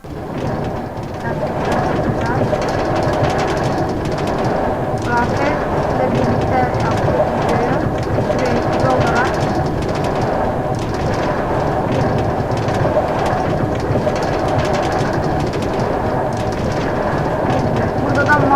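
A train rolling along a long railway in Minecraft, a continuous dense rumbling clatter that stays loud and steady throughout, heard alone without voices.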